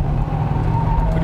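Kia K3 (Forte), 2019 all-new model, engine droning steadily from inside the cabin while driving on a downhill winding road, a continuous low hum with no talk.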